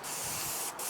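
Aerosol spray can laying down a thick coat of paint in a garage, a close, loud hiss that runs steadily with a brief break near the end.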